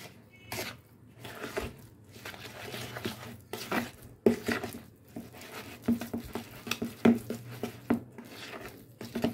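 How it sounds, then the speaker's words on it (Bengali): Oreo cake batter stirred by hand in a bowl as milk goes in two spoons at a time, with a soft wet rubbing and patter of repeated strokes and occasional utensil taps, close and continuous. "আমি 2 চামচ করে দুধ দিচ্ছি আর ব্যাটারটা তৈরি করছি।"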